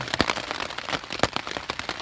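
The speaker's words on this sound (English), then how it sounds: "Sheltering in the tent, hoping the rain will stop." Rain patters on a tent at a campsite in the Smoky Mountains, an irregular crackle of close, sharp drops striking the fabric, with no talking.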